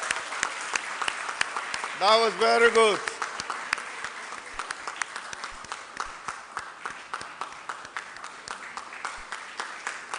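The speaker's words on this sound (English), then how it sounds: "Please clap for her. She deserves it." Audience clapping for an award presenter at a press conference, a steady patter of hands throughout while a voice speaks briefly over it and a short musical tone sounds early on.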